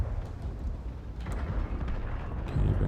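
An IS-7 heavy tank in World of Tanks fires its cannon, a deep rumbling boom blended into continuous low engine and battlefield noise with a heavier thump toward the end.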